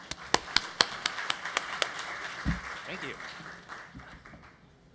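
A conference audience greets a hardware-hacking speaker with a short run of distinct, fairly faint claps that thin out after a couple of seconds, followed by a brief spoken thanks.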